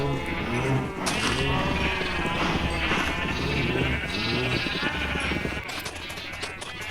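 Sheep in Minecraft bleat repeatedly, several overlapping calls in close succession, loud and close, with a steady background bed and no talking.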